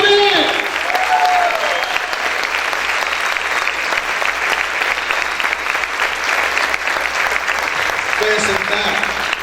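A church congregation claps loudly and continuously for the King, a dense, roaring wall of applause with shouts mixed in, and a voice briefly rising over it near the end.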